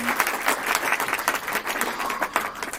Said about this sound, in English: Once again, a round of applause for the head with the